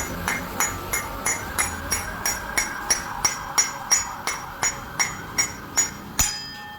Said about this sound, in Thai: ตีลงไปตรง ๆนะครับ แนะนำให้ใช้ค้อนทองแรงนะครับ อ่าก็ค่อยๆ ตีนะครับ